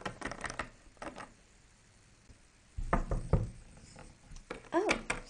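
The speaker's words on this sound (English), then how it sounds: "Oh, someone's at the door." Knocking on a hotel room door during a toy play scene, a couple of short bursts of raps heard up close between quiet stretches, with voices talking around them.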